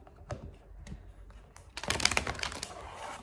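Quick papery riffling and light tapping of tarot cards being shuffled close up, sparse at first and then a denser flurry near the end.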